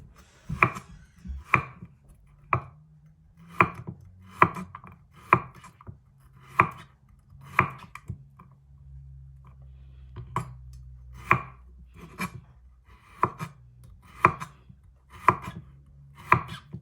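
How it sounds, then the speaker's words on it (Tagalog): Knife chopping vegetables for a salad on a cutting board, a steady run of crisp, evenly spaced thuds close by, with a low hum in the background and no talk. "Okay, so hiwa-hiwain na natin."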